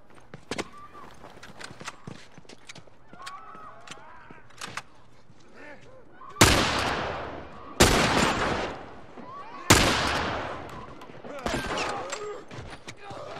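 Gunfire in The Last of Us video game: a few loud, sharp shots spaced a second or two apart in the latter half, after quieter game sounds and scattered clicks.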